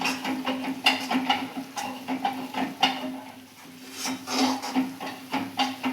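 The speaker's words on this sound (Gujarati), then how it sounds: "આવી રીતે આપણે હલાવી લેવાનું છે." A peanut and jaggery mixture for sing paak is stirred in a pot, giving soft repeated scraping and rubbing knocks at a close, fairly quiet level with no talk.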